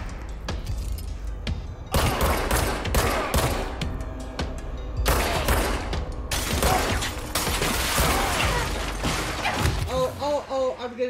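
Gunfire in the video game Control, dense bursts of rapid shots and impacts that keep going through most of the stretch, loud and busy, with brief pauses and some electronic tones near the end.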